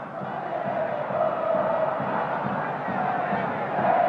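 Football crowd at a Boca Juniors versus River Plate match roaring steadily in support of their team, a loud, dense wall of cheering and chanting that swells slightly without pause, heard from within the stadium.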